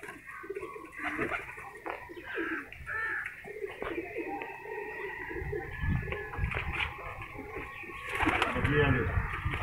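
A pigeon of the jeth type coos in low, soft repeated phrases nearby, mixed with other bird calls and some background voices throughout.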